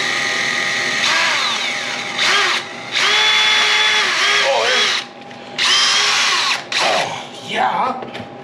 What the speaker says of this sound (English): How far in can I drill before I get electrocuted?